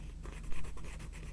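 A pen or pencil writes on paper close by, scratching in short strokes that rise and fall in a loose rhythm.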